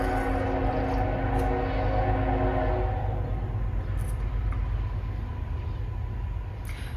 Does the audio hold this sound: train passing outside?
yes